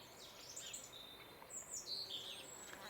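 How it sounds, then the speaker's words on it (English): Tree sparrows call from wetland countryside at the Ouse Washes, Cambridgeshire, a scatter of faint, high chirps and tweets repeating irregularly at some distance over quiet outdoor ambience. "Tree sparrows here."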